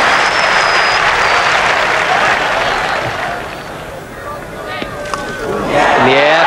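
Cricket crowd at an Ashes Test in 1981 rising to applaud a three-figure partnership, a loud sustained wash of clapping and cheering that dips slightly midway and swells again at the end.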